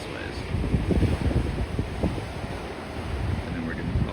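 Ocean surf and gusty wind at Sunset Beach on Oahu's North Shore, a continuous roar of waves with rumbling swells and microphone wind buffeting, moderately loud and steady throughout.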